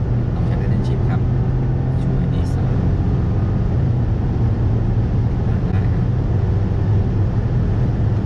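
A Honda City Turbo with a CVT gearbox driving and accelerating, heard from inside the cabin as a steady, loud, low engine and road drone with a few faint voices early on.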